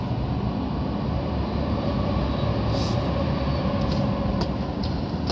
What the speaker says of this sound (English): And that sky train takes you all the way from Surrey